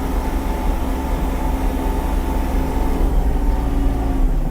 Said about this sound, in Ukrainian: Зверніть увагу на вихлоп, гарна, чиста робота